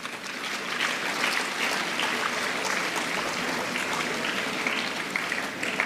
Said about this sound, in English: You too deserve a round of applause.